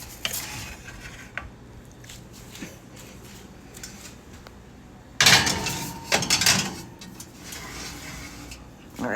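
Clanks and a door-like thud from a foil-covered dish being slid into an oven preheated to 350, loud bursts of clatter midway after quieter kitchen shuffling.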